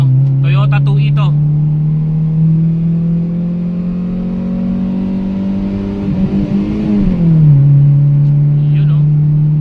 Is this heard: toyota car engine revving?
yes